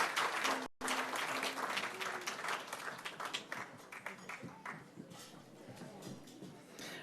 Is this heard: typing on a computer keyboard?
no